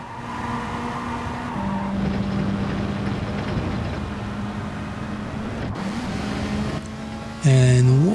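Race cars in a racing video game drone steadily around the track, engine tones holding and shifting as cars jostle, with a louder engine rev surging near the end.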